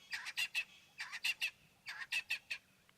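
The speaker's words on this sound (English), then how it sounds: "It looks like a Natal spurfowl that was making all that noise." A Natal spurfowl calls loudly at sunset on safari, harsh cackling notes in three quick bursts of about three calls each, close and clear over quiet background.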